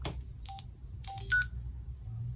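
A few short electronic beeps from a Knmaster KN2000 Bluetooth helmet intercom pairing chime faintly in quick succession over a low background hum, with no talking.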